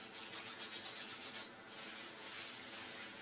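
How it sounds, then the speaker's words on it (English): Hands rub briskly together close by, a soft, steady rhythmic swishing of skin on skin that pauses briefly and then continues, quiet and alone without speech. "let's rub the hands together."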